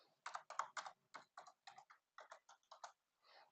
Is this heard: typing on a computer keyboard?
yes